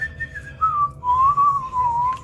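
Whistled rendition of the opening theme from Disney's Doug cartoon, a single clear melodic line of sliding, held notes carried alone over a low background hum.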